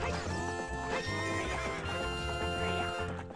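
A wild horse in The Legend of Zelda: Ocarina of Time neighs loudly over steady game music, with clip-clopping hooves running underneath throughout.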